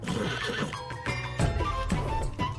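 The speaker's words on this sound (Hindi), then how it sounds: "घोड़ा।" A horse neighs and whinnies loudly and close, in a few rising and falling bursts with faint hoof clops beneath, no talking over it.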